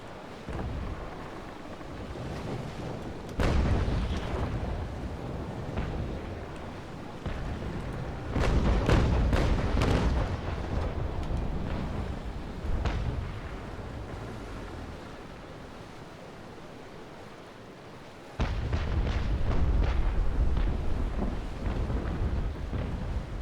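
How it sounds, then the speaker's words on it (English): Deep booming blasts of naval cannon fire in the game Naval Action roll in repeatedly, some sharp and near, others distant rumbles, over a constant noisy wash. "I love the sound of the cannons, especially the distant ones."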